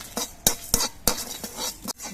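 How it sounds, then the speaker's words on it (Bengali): Whole cardamom pods, cinnamon pieces, cloves and black peppercorns being stirred in a hot pan, sharp metallic scrapes of a spatula at irregular intervals over a faint sizzle, close and fairly loud. "মশলাটা ভাজার সময় কিন্তু অনবরত নাড়তে হবে যাতে মশলাটা পুড়ে না যায়"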